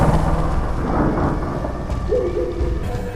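A thunderstorm with strong gusting winds: a steady, heavy roar of wind and rain fills the whole stretch, with a low rumbling undertone and no pauses.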